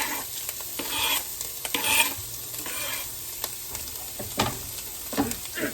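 Chicken sausage, green pepper and onion sizzle in a pan for a quiche filling, with a steady close frying hiss broken by repeated scraping stirs and soft clatters; no speech.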